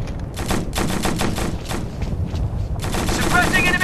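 Rapid bursts of automatic gunfire from a military shooter game, Operation Flashpoint Red River, crackling in repeated volleys throughout, loud and close with a brief lull before a fresh burst.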